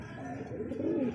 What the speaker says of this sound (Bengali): এত সুন্দর একজোড়া কবুতর